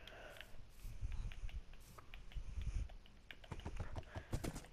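Horse hooves clip-clopping in a quick, steady rhythm in Minecraft, over a faint background hum, fairly close and moderately loud.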